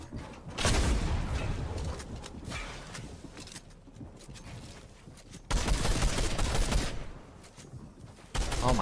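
Rapid bursts of gunfire from the Fortnite Zone Wars video game, dense and loud, with a steady barrage that dips midway before surging again near the end; no talk over it.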